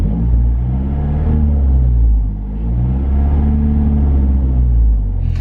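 Car engine running at low revs after a rear motor mount install, a loud close rumble with slow rising and falling harmonic sweeps as it revs gently, no talking.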